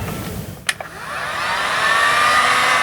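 A heat gun blows on seized bronze holding tank discharge parts on a boat, starting after a brief clack and settling into a steady loud whooshing hum close by, with no talking.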